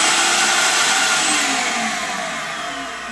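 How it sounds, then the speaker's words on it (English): A vacuum cleaner runs loud and close in a steady high whine and hum, easing slightly in level over a few seconds, with no voices. "and I'll switch on the vacuum."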